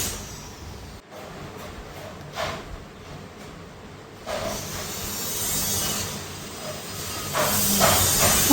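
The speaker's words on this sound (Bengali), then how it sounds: "বেসন দিয়ে ভাজিয়া বানাচ্ছে" Onion bhajia made with gram flour sizzling in hot oil, a steady broadband hiss that swells louder in bursts, with no talk over it.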